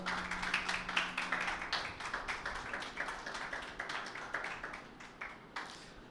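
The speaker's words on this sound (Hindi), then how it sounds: "यीशु के लिए तालियां बजाएं जोरदार" Scattered hand claps at a Sunday church meeting tap out a loose, uneven rhythm, fairly quiet and distant, with no voices over them.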